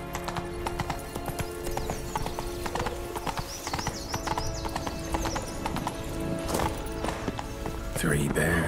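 Roach the horse gallops in The Witcher 3 with a steady, fast clip-clop of hooves and a brief whinny, set against game music and ambience, with a voice talking over it.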